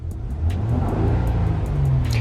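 Close car engine revving with synthetic engine noise played through the car's system, a loud low roar rising and falling briefly with no one talking.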